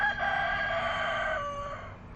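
A rooster gives a single clear cock-a-doodle-doo crow close by, tonal and rising before it trails off over about two seconds.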